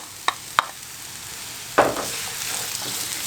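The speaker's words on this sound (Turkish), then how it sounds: "Biberler ve soğanlar çok az yumuşayana kadar kavuralım." Onions and peppers sizzle steadily in a hot pan, with a few sharp clacks of a utensil stirring early on and a louder clatter partway through.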